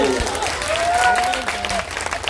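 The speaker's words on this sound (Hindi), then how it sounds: "ताली बजा रहे हैं।" A crowd clapping steadily at an outdoor political rally in Tarari, with dense continuous applause under voices and chatter throughout.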